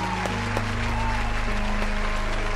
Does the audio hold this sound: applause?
yes